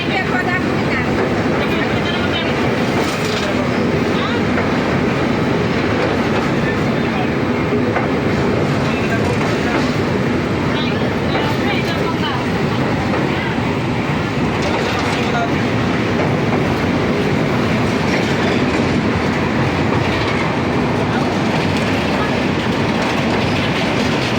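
An Indian passenger train rolls along the rails past a highway and a flooded river, a loud continuous rumble with rhythmic clickety-clack of wheels over rail joints throughout.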